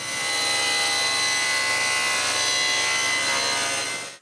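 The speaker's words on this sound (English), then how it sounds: "I also cut a decorative 10-degree cut all around its edges." Power saw cutting a decorative 10-degree bevel along the edges of a walnut clock base, a loud steady high whine that holds for about four seconds before tapering off at the end.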